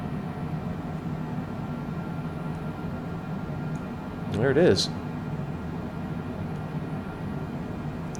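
Steady low cabin rumble of an airplane descending toward Victoria, BC, a constant engine and airflow drone throughout with brief talk near the middle.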